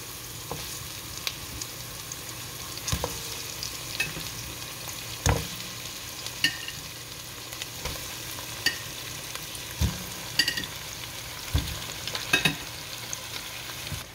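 Chicken cubes fry in a pan for macaroni soup, giving a continuous close sizzle broken by scattered utensil knocks and scrapes as they are stirred. No talking.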